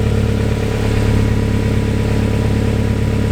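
A Honda Civic with an H22 engine idles steadily around 1,000 rpm, a constant close, loud rumble with a slight ticking puff from a leaking exhaust gasket, no voices.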